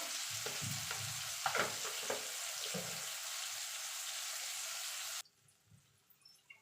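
Tomatoes frying in a pan for mixed vegetable dal, a loud, dense hissing sizzle with a few scraping stirs for about five seconds, then an abrupt cut to near silence with faint low bumps.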